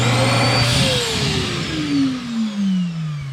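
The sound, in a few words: built-in vacuum cleaner in R-Pod 180 camper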